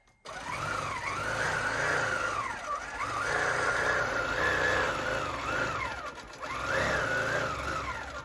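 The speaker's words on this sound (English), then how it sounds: "So now I'm going to sew down this side." A QuiltMotion 5 Pro quilting machine sews down the side of a quilt with a heavy knit Minky back, giving a steady motor whir that rises and falls in repeated sweeps as it runs, with no talking.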